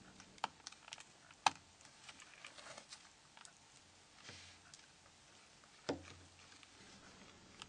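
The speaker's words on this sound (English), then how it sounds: "Place the upper side first and click all snaps into their places." Plastic snaps on an LCD assembly clicking into place, several sharp close clicks spaced irregularly over a quiet background, with softer handling taps and rustles between them.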